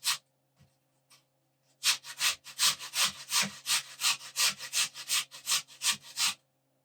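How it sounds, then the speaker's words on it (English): A raw potato is grated by hand over a box grater into a bowl, producing a rapid run of rhythmic rasping strokes, close and crisp, after a few isolated scrapes at the start. "to grate the potato in this bowl."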